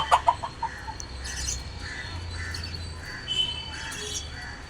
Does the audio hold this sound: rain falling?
no